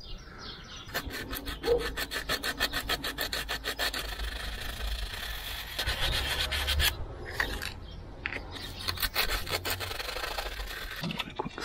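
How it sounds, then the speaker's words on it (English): Sandpaper scrubs over rusty metal on an abandoned orchard tractor, a close, steady run of rapid back-and-forth rasping strokes that pause briefly and resume, with no talking. "That is quite rusty, so I'll give that a clean up with some sandpaper."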